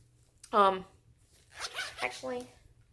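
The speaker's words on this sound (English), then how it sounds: "Actually, I'm gonna go ahead and unzip it." A zipper on a double-zip wallet is pulled open in a couple of quick, close strokes, with short buzzy rasps separated by a brief pause.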